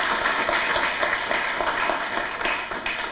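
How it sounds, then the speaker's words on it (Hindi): Loud, steady applause from an audience for Manoj Tiwari during a televised Hindi interview, continuous dense clapping close by that runs the whole time with no pause. "जोरदार तालियां मनोज जी के लिए"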